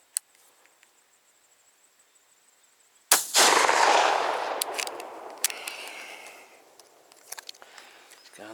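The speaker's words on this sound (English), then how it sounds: "Alright, first shot with the BBs at" A TSS 20 gauge shotgun firing BB shot at a target 50 metres away outdoors: one loud, sharp blast that decays slowly, preceded by a faint click and followed by light rustling.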